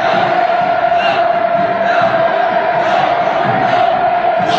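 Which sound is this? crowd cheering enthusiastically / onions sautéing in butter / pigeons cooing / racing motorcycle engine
crowd cheering enthusiastically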